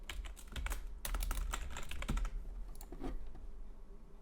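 Rapid, uneven keystrokes on a computer keyboard as code is typed into a C# project, with short bursts, brief pauses and close, clear clicks and no voices.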